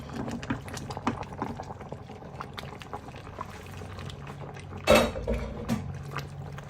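Seafood okra soup with octopus simmering in a pot, a close, continuous bubbling and gurgling of liquid with a brief louder clatter near the end, no voices.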